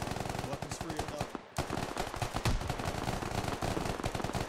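Gunfire in the military shooter Squad: dense, continuous bursts of automatic rifle and machine-gun fire, loud and rapid, with a brief lull partway through before the shooting resumes.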